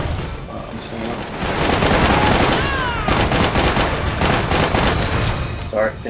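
Dense, continuous gunfire in the Army of Two: The 40th Day video game, a loud sustained fusillade of overlapping shots with brief voices mixed into the din.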